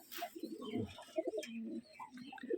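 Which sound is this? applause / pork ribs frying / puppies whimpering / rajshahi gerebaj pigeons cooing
rajshahi gerebaj pigeons cooing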